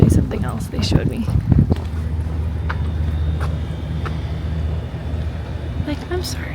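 Gusty wind buffets the microphone outdoors at a movie filming location, a steady low rumble running throughout with brief louder bursts early on and some talking mixed in.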